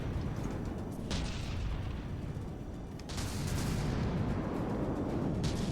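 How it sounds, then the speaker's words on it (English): Flak guns firing at aircraft in the naval combat game From the Depths, a steady barrage of booming bursts with sharp cracks punctuating the rumble, loud and continuous throughout. "Flat guns now firing at the aircraft."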